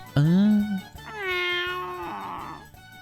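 A stray cat in the visual novel If My Heart Had Wings gives two clear, close meows, the first short and high, the second longer and drawn out, fading at the end.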